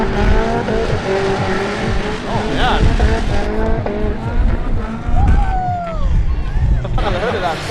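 Drift car, a Ford Mustang with a Toyota JZ engine, screaming at high revs with squealing tires during a competition run, loud and close, over a crowd hubbub and commentary.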